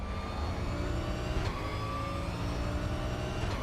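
A race car engine in the racing game RaceRoom Racing Experience whines steadily at high revs throughout, fairly quiet and unbroken, with a few faint gear-shift blips.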